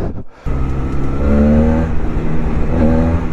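A Honda Rebel 500 cruiser motorcycle engine revs up after a brief quiet pause, settling into a loud, steady, close-up drone with rising and falling pitch as the throttle is worked.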